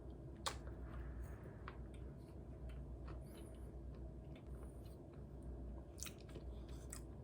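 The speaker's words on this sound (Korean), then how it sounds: "초코도 일단 한번 먹어볼게요" Someone eating a chocolate Pop-Tart, soft close-up chewing with occasional small crunchy bites over a low background hum, faint and quiet throughout.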